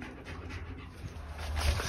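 Dogs panting outdoors in warm weather in Turkey make soft, rapid breathy huffs against a faint background hiss, with no talking.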